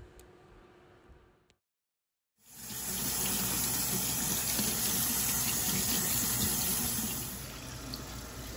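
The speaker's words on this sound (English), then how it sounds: "Here I am just rinsing all of the starch off of the jasmine rice before I put it into the rice cooker." Jasmine rice being rinsed of starch under a running tap, a steady loud gush of water filling a container that begins after a brief silence and continues to the end, easing slightly near the finish.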